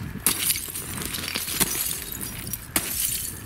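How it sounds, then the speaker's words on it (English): Boots stepping on loose slate rock on a Canadian Rockies hiking trail, each footfall a sharp, brittle crunch like smashed dishes. Three distinct clattering steps stand out over a steady outdoor hiss. "when you step on it, it really sounds like you're smashing dishes"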